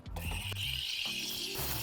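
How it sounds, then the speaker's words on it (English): An espresso machine steam wand froths milk with a steady airy hiss and a rhythmic chirping, stuttering sound as air is drawn into the milk, close and continuous. "what you want to hear at first is this almost like chirping noise"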